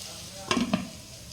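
Onions with salt are stirred in a pan: two quick scraping strokes of a spoon over a faint sizzle, short and close.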